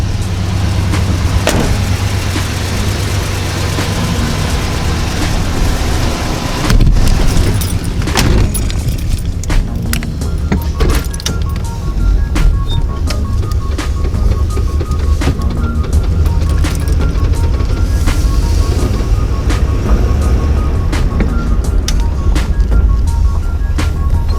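A Chevy with no mufflers fitted, heard from inside while driving, gives a loud, constant low exhaust drone and engine rumble throughout, with occasional knocks and rattles.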